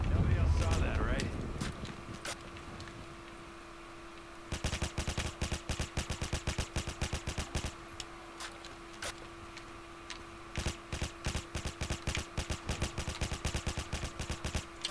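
Silenced gun firing in Black Ops 3 Zombies on the custom Meat Factory map, rapid bursts of close, crisp ticking shots in quick rhythmic runs, under a steady background hum.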